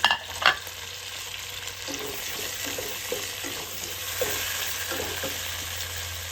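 Tomato, ginger and garlic sizzling with browned onions in a pan for prawn rice, a steady hiss broken by a sharp clank at the start and repeated soft stirring scrapes.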